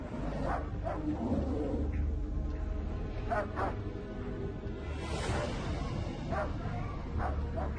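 A dog barks repeatedly outside a house where polar bears roam the neighborhood, sharp yips recurring at uneven intervals over a constant rumbling background, moderately distant.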